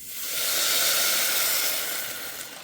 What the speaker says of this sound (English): now I'm gonna add my water